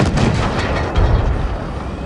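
Loud, heavy tank cannon blasts in World of Tanks boom in quick succession, a dense rumbling barrage of game artillery fire with no voices.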